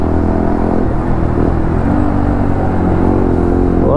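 Modified Bajaj Pulsar NS125 exhaust runs close and loud, a continuous throaty idle with small blips of revving layered over a steady low rumble.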